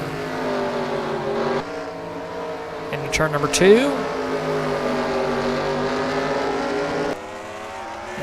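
Race cars roar around a short oval track at Greenville in a sim racing series event, several engines droning and shifting in pitch as they pass close by, under continuous race commentary.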